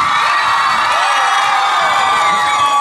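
A crowd at an open-air summer concert cheers and shouts, with children's voices and whoops among the steady, loud roar of the audience filling the whole stretch.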